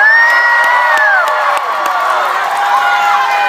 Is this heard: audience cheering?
yes